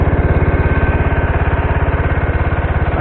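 A 1974 John Deere 140 H3 garden tractor engine running steadily up close, a loud, even low-pitched rhythmic thrum with no other sounds.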